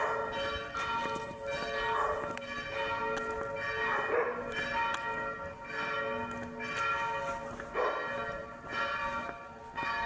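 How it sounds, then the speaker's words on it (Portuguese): Church bells ring continuously from a hilltop church in Rome, a dense layered peal of overlapping strikes and sustained tones with swelling accents, moderately loud with no speech. "não haverá também mais o barulho desses sinos"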